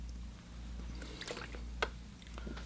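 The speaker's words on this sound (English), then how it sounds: "I rinse my brush off" Watercolor brush swished and rinsed in a water jar, giving faint wet squishes and a small splash near the middle against a low steady background hum.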